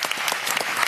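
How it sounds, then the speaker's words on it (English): A brief burst of dense applause from a crowd at a startup pitch event, many hands clapping at once. "Big round of applause."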